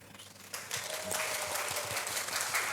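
A church congregation breaks into sustained applause for the prophet during a worship service, a broad wash of many hands clapping that swells after the first half-second and continues steadily, with faint background tones beneath.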